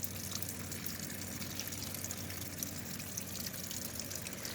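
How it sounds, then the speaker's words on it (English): Water drips and trickles steadily from the drain of a Tempstar air conditioner while its clogged coil is being cleaned, a faint continuous flow under low background hum. "it's still dripping since it's still draining."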